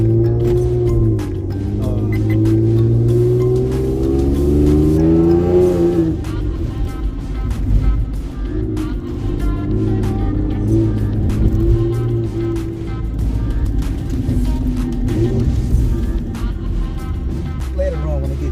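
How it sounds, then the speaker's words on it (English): A car fitted with a newly installed Steeda rear sway bar drives on a short test drive, its engine droning and rising under continuous nearby talk. "Just gonna go on a very short test drive to see, make sure there's nothing loose, nothing jiggling around."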